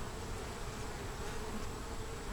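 Honey bees buzz steadily at an open hive during an inspection of a queenless colony bringing in pollen, a dense close drone with no other sounds.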